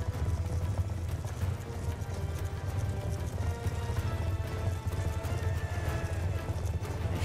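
Rapid rhythmic hoofbeats of a galloping horse in the video game Black Ops 2 pound steadily over a low rumbling background, continuous and fairly loud throughout.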